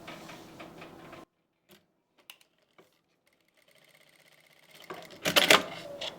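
A sewing machine stitching a kurti neckline runs in short bursts: a brief whirring run, near silence with scattered clicks, then a louder rapid stitching burst near the end, close by.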